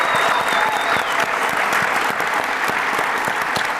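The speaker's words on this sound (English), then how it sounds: "Let's give our star athletes another round of applause." Audience applause for star athletes at the RES 2025 business event, a full, steady wash of many people clapping throughout, loud and continuous, with faint crowd noise and a brief cheer mixed in.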